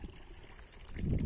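Spring water trickles into a small pond at an old abandoned farmhouse, a steady soft gurgle that swells louder toward the end, with no voices.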